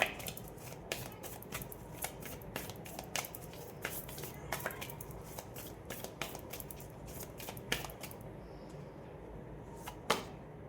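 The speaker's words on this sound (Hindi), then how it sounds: "ओके ओके, एक और कार्ड लेते हैं।" Tarot cards are shuffled and drawn by hand, making a rapid series of soft, close slaps and flicks that patter irregularly throughout, with a sharper snap near the end.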